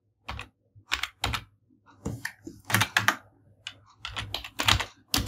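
Computer keyboard typing, short bursts of key clicks in an irregular rhythm with brief pauses, close and clear, no voices.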